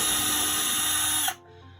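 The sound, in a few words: power drill drilling a hole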